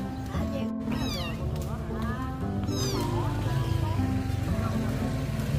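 A cat meows several times in rising and falling cries, close and fairly clear, while people talk in Vietnamese nearly throughout, with a low background rumble.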